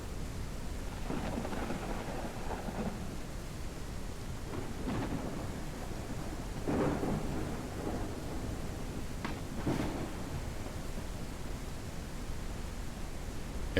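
Rain falls in a steady wash during a thunderstorm in the Ranch Simulator game, while a few low thunder rumbles swell and fade beneath it.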